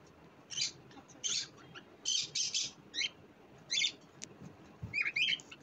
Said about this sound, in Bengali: বাসায় অনেকগুলো পাখি আছে, আমার ভাই পাখি পালে